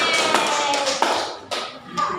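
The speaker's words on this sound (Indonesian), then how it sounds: "Beri apresiasi, tepuk tangan." Classroom applause for a student group after a presentation, a steady dense patter of many hands clapping together throughout, with a voice faintly mixed in.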